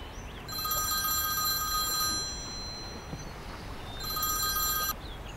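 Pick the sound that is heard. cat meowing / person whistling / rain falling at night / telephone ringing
telephone ringing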